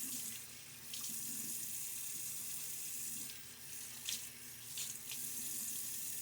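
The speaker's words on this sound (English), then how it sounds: "Give it a good rinse." Tap water runs steadily into a sink while a shaving brush is rinsed under it. The sound is close and continuous, with occasional splashy bursts and no talking.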